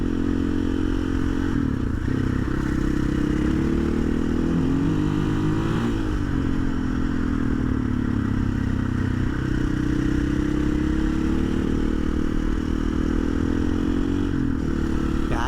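Close, continuous engine drone from a motorcycle fitted with an Athena GET SX1 ECU running its sportier map 1, revving up and down over rough terrain with scraping and clattering from the ride, and no talking.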